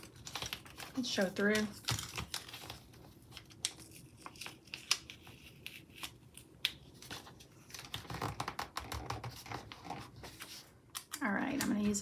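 Scissors snipping through a planner sticker sheet, crisp irregular cuts and paper rustling up close, with someone speaking briefly at the start and end.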